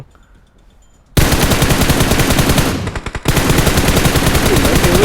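Automatic gunfire in PUBG Mobile on the Sanhok map erupts after a second of near quiet into loud, dense, continuous bursts, dipping briefly near the three-second mark before the rapid fire resumes.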